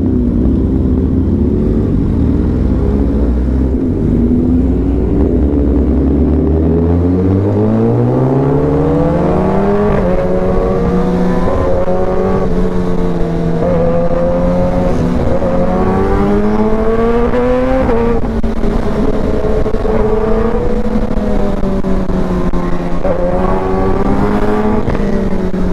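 A Kawasaki ZX10R and a BMW S1000RR superbike racing on a highway roar continuously and very loudly, engines rising and falling through gears with repeated revving sweeps, close and alone with no talk.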